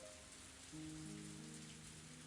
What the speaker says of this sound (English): But unfortunately, the rain doesn't seem to want to stop.